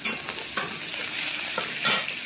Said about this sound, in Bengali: দুটো কাঁচা লঙ্কা দিয়ে দেবো